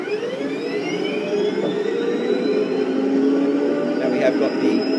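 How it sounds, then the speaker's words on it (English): An M1 Abrams tank's gas turbine engine spins up, giving a steady, loud rising whine with layered high tones over a deep roar that holds at full level throughout. "I've got the turbine engine start for the Abrams"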